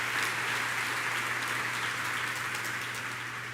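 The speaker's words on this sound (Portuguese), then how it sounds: "Dá uma salva de palmas" A church congregation applauds at a distance, a dense continuous patter of clapping that stays steady and soft and fades slightly toward the end, with no voices on top.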